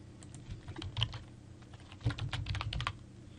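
Someone types a username on a computer keyboard while installing a WordPress script: quick, irregular bursts of close key clicks, with a brief pause before a denser run of taps, and no voices.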